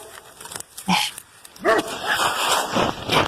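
Several dogs bark and yip in short irregular bursts, some close and loud, others whimpering, with overlapping calls and room noise between them.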